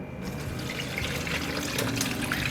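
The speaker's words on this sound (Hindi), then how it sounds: "अब हम शरबत को स्ट्रेन कर लेंगे।" Dark purple jamun sharbat juice is strained into a bowl, a steady close trickle and pour of liquid running continuously without any talking.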